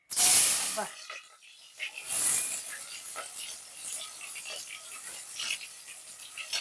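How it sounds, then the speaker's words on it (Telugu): Sliced onions tipped into hot oil for a beef curry, bursting into a loud hiss that fades and then swells again into a steady crackling sizzle. "ఆయిల్ అయితే కాగిందండి ఉల్లిపాయలు అయితే వేస్తున్నాను"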